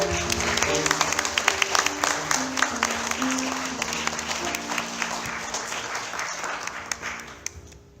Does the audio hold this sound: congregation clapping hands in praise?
yes